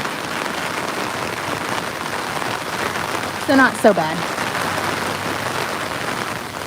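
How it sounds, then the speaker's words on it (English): Steady rain pours down around Disney's Saratoga Springs Resort, a constant close hiss that continues throughout while someone speaks briefly in the middle. "Oh, I hate that it's so rainy"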